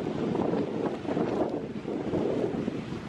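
Big ocean swells and surf roar at Rialto Beach in pouring rain, a continuous broad wash of waves buffeted by wind on the microphone.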